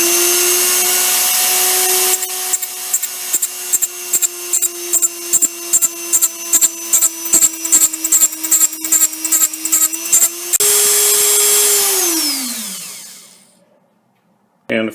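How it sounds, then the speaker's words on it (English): A metal lathe cutting off a part during mantle clock repair, with a loud steady spindle whine broken by a rapid series of rhythmic chattering cuts, then a smooth run as the spindle slows and winds down to silence. "I like to turn the lathe spindle on slowly so that the cut cuts all the way around."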